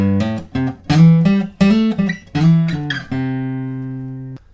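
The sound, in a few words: acoustic guitar riff played faster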